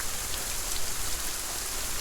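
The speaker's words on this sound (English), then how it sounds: "Rain is in the game." Rain pours down in the Saurian dinosaur video game, a loud, continuous wash of drops striking the ground with slight swells in intensity and no talking.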